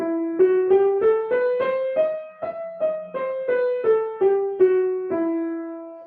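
A harmonic minor scale played up and back down on a single plucked or keyed instrument, about sixteen even, distinct notes with no talking.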